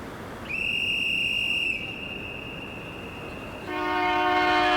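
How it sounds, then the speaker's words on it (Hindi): Train sounding a long steady whistle, followed by a louder multi-tone horn blast as the train passes close by, with rumbling rail noise underneath. "अरे अरे अरे ट्रेन जा रही है"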